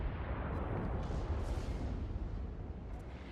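Scharnhorst battleship gun salvo in World of Warships at sea, a heavy, dense roar of booming gunfire rolling on without a break, loud and close, with no talking.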